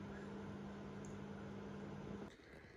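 A microwave oven heating a dinner of roast pork, peas, sweet corn and mashed potato, giving a steady close hum with a low electrical drone that stops abruptly near the end, with no talk over it.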